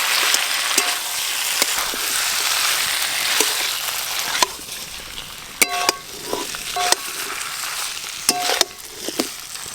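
Fried potatoes and ridge gourd cook in oil with chilli paste, green chillies and salt, sizzling loudly up close while a spatula scrapes and knocks against the pan in scattered sharp clicks.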